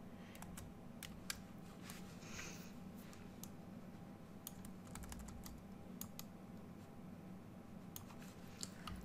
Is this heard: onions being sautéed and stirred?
no